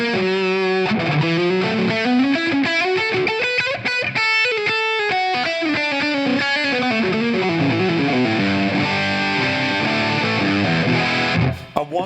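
An electric guitar played through a ToneX One pedal's distortion capture gives a thick, saturated tone, with continuous riffs and sustained chords ringing for about twelve seconds before cutting off abruptly.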